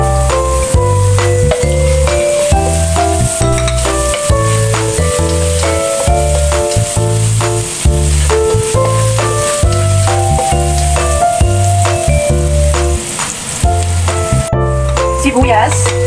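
Garlic being sautéed in oil for shrimp egg noodles makes a steady sizzle under loud rhythmic background music, continuing throughout the clip.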